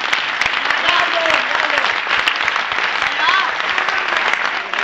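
Audience applause at a comedy show, loud, dense clapping sustained evenly throughout, with a few faint voices and whistles mixed in.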